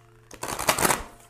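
Oracle cards being shuffled, a brief burst of riffling and slapping card noise lasting under a second, close and fairly loud against a quiet background with no talk.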